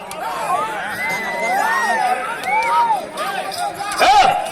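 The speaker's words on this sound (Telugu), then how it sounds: "విజయోత్సవ కేకలు రావాలి." A crowd of mostly young voices whoops and shouts in victory, with overlapping rising yells and a louder burst of cheering near the end, at a rural banda lagudu contest.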